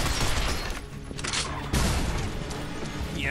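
Machine gun fire in the shooter Binary Domain, rapid bursts of gunfire with booms and crashes in a dense, busy battle mix, moderately quiet overall with a sharp impact partway through.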